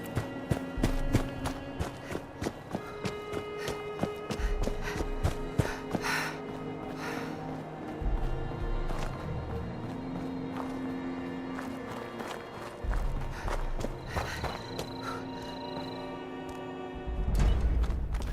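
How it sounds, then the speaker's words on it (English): Footsteps in Fallout 76 tap and thud in an irregular series, moderately loud, mixed with other game effects and occasional mechanical clanks. "I hear footsteps."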